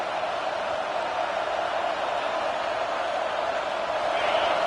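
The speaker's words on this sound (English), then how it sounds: "Decibels rising as the crowd gets behind this defense on third down." Steady roar of a large stadium crowd in the College Football 26 video game, Penn State vs Texas A&M, a dense continuous wash of cheering that swells slightly near the end.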